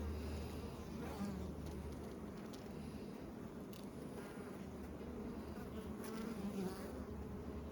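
Honeybees buzz continuously around a wax-covered hive frame, a dense close-up drone that stays steady throughout.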